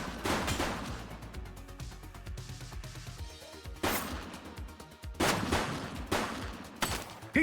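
Gunfire in the police video game The Precinct: several loud, separated volleys of shots with gaps between them, close and punchy over a steady game soundtrack.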